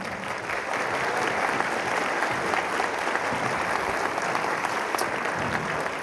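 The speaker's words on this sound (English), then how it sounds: "if we could please give her a round of applause" A band concert audience applauds steadily and loudly throughout, a dense wash of clapping with no talk over it.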